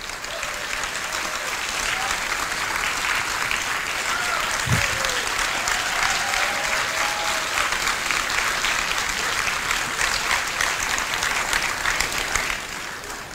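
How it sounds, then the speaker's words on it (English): An audience at a hackathon pitch and award ceremony applauds the presented projects, with steady, dense clapping from a sizeable crowd that holds for over ten seconds before tapering at the end. "I would like to everyone here to applause for these fantastic projects that we have seen here at"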